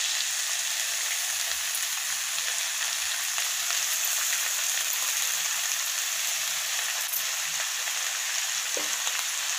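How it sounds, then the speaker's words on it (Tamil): Freshly cut brinjal sautés in a hot pan for bisibelabath, a steady loud sizzle and crackle of frying with faint stirring throughout and no voices. "நம்ம நல்லா ஒரு வதக்கை வதக்கிட்டோம்"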